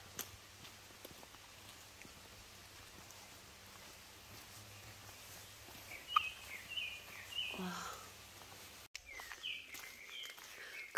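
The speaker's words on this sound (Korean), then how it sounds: "새소리 난다." Faint birdsong chirps in the distance over outdoor forest ambience and soft footsteps on a red clay trail at Jangdong Forest in Daejeon, South Korea, with a few brief calls rising in the later half.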